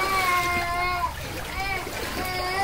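Wading steps splash and slosh through floodwater in a flooded neighborhood, rhythmic watery surges under a person talking throughout.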